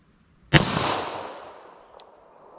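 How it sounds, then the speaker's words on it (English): A single .40 S&W pistol shot fired at a 75-yard target outdoors: one sharp, loud crack followed by a long decaying outdoor echo, with a faint distant report near the end. "I just want to shoot kind of slow and see how these things will do for me from 75 yards"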